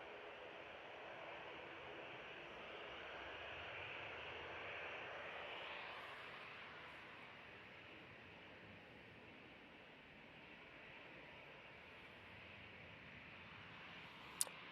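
A TUI Boeing 737-800 jet off to Newcastle from Manchester Airport, heard as a faint, distant, steady engine rumble and hiss that softens gradually, ending with a brief sharp tick.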